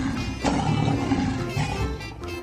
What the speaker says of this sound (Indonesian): Wow, ada singa, si raja hutan.